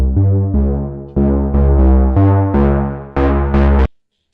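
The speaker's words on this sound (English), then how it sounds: "this main bass synth that sounds like this." Serum-built bass synth recreating the buzz synth from a song, playing a loud, rich buzzy line of about nine punchy notes in a rhythmic pattern, with no one talking.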